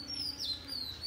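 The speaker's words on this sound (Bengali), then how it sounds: "পাখি ডাকতেছে।" Birds calling outdoors near neem, mango, jackfruit and pomegranate trees in the morning, a clear high chirping whistle with sliding notes over quiet background hiss.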